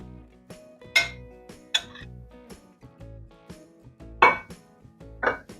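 Rabbit leg lifted from a pot of braised Maltese-style rabbit stew, giving a few sharp clinks of a utensil against the metal pot, spaced irregularly and close, with no talking.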